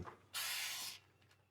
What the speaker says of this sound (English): The can clogged up and it won't spray even with the other tip.